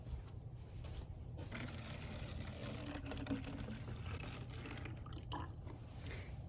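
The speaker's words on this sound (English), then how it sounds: "we're going to fill the bottle halfway with water" Water poured into a plastic bottle holding water beads, a steady hollow gurgling fill with trickles and drips, continuous and fairly faint.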